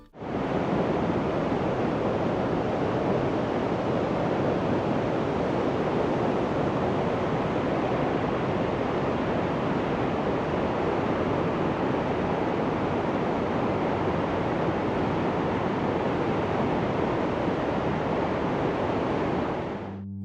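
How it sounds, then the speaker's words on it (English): A Swiss waterfall pours steadily, its roar echoing off the rock walls as a broad, unbroken rush of water that stays loud and even for the whole stretch, with no voices. "the sound of the water echoing off the walls was incredible"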